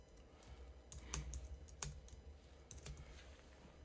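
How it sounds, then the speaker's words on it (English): Faint, sparse clicking of a computer keyboard as text is typed into a comment box, quiet keystrokes over a low background hum. "So let me go ahead and type that in there."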